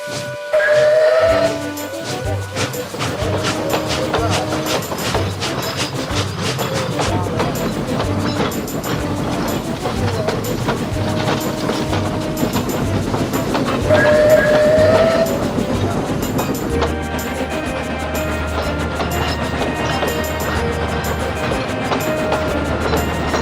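Train 1020 pulls away after a guard's whistle, a short whistle toot, then steady rumbling and clanking of the moving engine, with a second whistle partway and a deep low drone building near the end.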